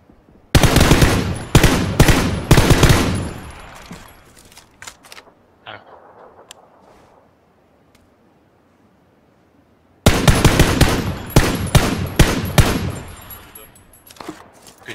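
Bursts of automatic gunfire from PUBG, loud and close, in rapid clusters at the start, then a lull with faint activity and a brief quiet gap before another heavy volley of rapid shots resumes.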